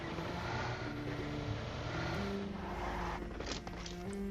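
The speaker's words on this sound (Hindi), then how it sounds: "यहाँ से एक गाड़ी गुजरती है" A vehicle drives past in the Free Fire battle royale game, a loud continuous engine roar with droning tones that holds steady for several seconds, with light clicks near the end.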